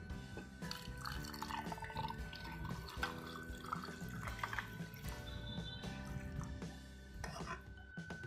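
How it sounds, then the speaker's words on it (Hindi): Sharbat poured into a glass over ice cubes: a steady liquid pour with drips and trickles over background music, faint, lasting several seconds. "अब इस शरबत को हम ट्रांसफ़र करेंगे ग्लास में"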